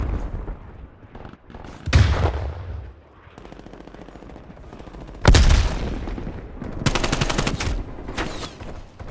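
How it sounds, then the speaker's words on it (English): Automatic gunfire from a Call of Duty: Black Ops Cold War multiplayer match, loud bursts of rapid shots with sharp booms around two and five seconds and a sustained rattling volley near the end, no talking. "Absolute gall of my gun to shoot everywhere but that person's head"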